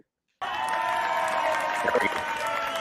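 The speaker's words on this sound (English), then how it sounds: "We need the crowd cheer." A canned crowd cheer effect kicks in abruptly after a brief silence, a dense wash of cheering, whistles and applause that holds steady at full loudness with a faint voice briefly surfacing underneath.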